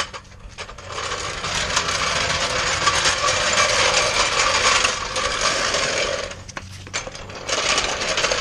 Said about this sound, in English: Jack this baby up.